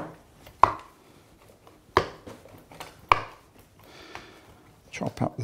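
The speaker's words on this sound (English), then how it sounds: "what I'm going to do is chop up" A knife chops fresh rosemary on a board for a Provence-style leg of lamb rub, giving three sharp, evenly spaced thuds followed by a quicker burst of small cuts.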